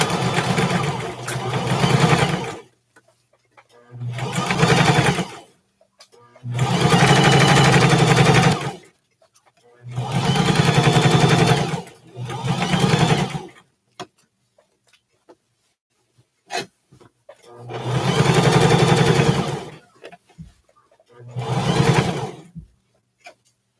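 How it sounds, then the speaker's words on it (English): A home sewing machine stitches around the edge of a pair of shorts at a 5/8-inch seam allowance, running in about six loud, steady bursts of a few seconds each, separated by quiet pauses with small handling clicks. "So we're just going to take it and sew it around"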